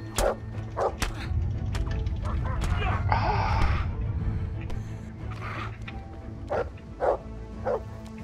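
A dog barks in the medieval video game Kingdom Come: Deliverance, several sharp yips and woofs spaced across the scene over a low steady game hum and rustling, with a voice speaking in between.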